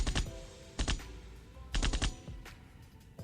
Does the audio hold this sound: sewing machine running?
no